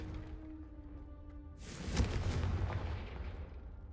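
A Confringo fire spell bursts in the video game Hogwarts Legacy, a sudden loud whooshing blast that rolls into a rumbling decay after a low hum, with no speech.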